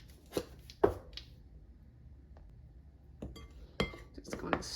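A utensil stirs flour, baking soda and salt together in a bowl for banana cake, giving a few sporadic clinks and taps against the bowl with quiet gaps between them.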